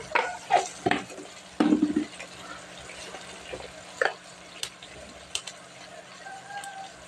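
Vegetables with salt, turmeric and chili powder being stirred and mixed in a pan, giving scattered scraping and clinking knocks over a soft background hiss, with occasional brief kitchen sounds.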